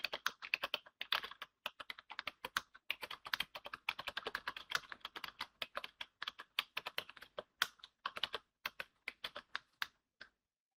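Fast, irregular clatter of keys on a computer keyboard, close and crisp, with brief pauses between bursts of typing and no voices.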